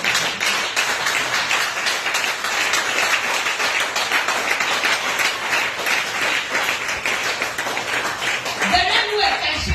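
A church congregation claps steadily and cheers throughout a French-language teaching service, a dense, continuous wash of applause and acclamation with voices mixed in.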